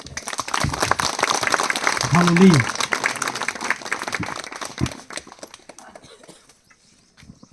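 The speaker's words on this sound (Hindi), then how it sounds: "यीशु ख्रिस्त के लिए एक बार जोर से ताली बजा देंगे।" Congregation in a village church service in Jatanga, Katghora clapping in a quick, dense burst that fades out, with a voice calling out in praise over the clapping.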